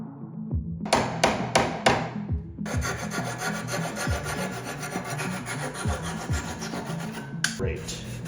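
Screws are driven into cedar chair wood: several short bursts of drill whine and wood rasping at first, then a long continuous grinding drive with rhythmic creaks and knocks, close and loud, with no talk.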